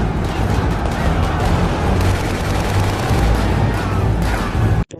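Automatic weapon fire in a film action scene: loud, dense, continuous bursts of gunshots layered over one another that cut off abruptly at the very end.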